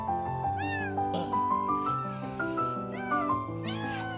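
A cat meows repeatedly, several rising and falling calls in close succession, fairly near and clear over a steady background tone.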